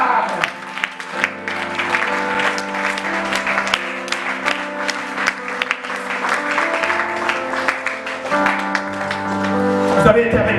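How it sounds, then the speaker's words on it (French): A church congregation applauds through a dense wash of clapping, with sustained music and voices carrying over it the whole time. "on acclame."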